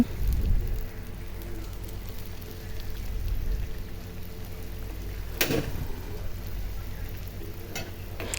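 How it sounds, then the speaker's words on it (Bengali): Egg puri frying in hot oil, a steady crackling hiss that runs throughout, punctuated by a couple of sharp isolated pops or clicks, fairly close and without speech. "আরেকটা ভেজে নেব আমি এভাবে সবগুলো ভেজে নেব"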